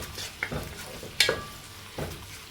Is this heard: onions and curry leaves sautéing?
yes